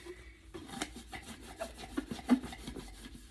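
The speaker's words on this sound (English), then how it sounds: "Okay, nice, good scrub down." A drinking tumbler gets a brisk scrub, with short rhythmic rubbing strokes heard close and fairly quiet.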